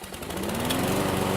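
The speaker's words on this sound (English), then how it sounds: "He knows how to work a lawnmower" A lawn mower runs in a short burst, its engine droning steadily and fairly loud with a slight rise in pitch, close by and with no speech over it.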